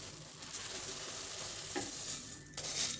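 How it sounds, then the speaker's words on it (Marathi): Puffed rice is tipped into hot jaggery syrup in a pan with the gas off, then stirred, giving a soft continuous crackling sizzle with a few light scrapes and rustles. "आणि हे चुरमुरे टाकायचे आपल्याला"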